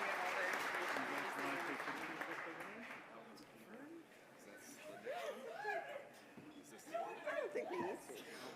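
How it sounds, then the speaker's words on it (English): Audience applause at an agricultural municipalities convention, loud sustained clapping that fades after a few seconds, with crowd chatter and laughter rising as it dies down. "If we can just have one more round of applause"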